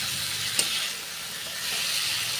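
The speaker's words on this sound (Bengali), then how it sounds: "মশলা কষানো হয়ে গেছে, মশলাকে তেল ছেড়ে দিয়েছে।" Spice paste sizzles steadily in hot oil while cooking a rohu fish curry with potatoes and green mango, a close, continuous frying hiss with one brief clink of stirring.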